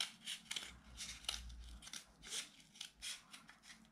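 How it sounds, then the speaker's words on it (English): Scissors snip around the cup of an egg carton in a series of short, crisp cuts at an uneven pace, quiet and close, with no talking. "you take your scissor, and you just cut it round"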